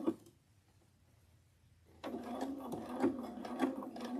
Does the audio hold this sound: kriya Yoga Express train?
no